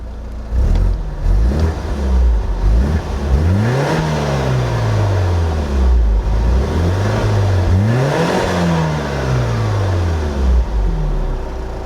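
A BMW Z4 E85 roadster's engine revs up and down repeatedly while driving on a winding mountain road, loud and close, rising and falling in pitch through several gear pulls with no speech.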